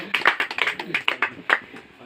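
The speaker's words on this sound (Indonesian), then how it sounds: "Tepuk tangan Bur Nebau." A small group claps hands in uneven bursts, close and fairly loud, with speech mixed in.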